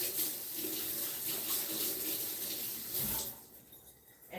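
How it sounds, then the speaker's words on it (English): Tap water runs steadily into a kitchen sink as hands are washed during dinner preparation, a continuous close splashing stream that thins out near the end. "wash my hands just so it could be a little bit cleaner."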